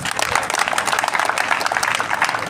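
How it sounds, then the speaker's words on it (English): Audience applause at a school's 60th anniversary public lecture, a dense steady wash of many hands clapping, loud and continuous throughout. "Once more, clap for him."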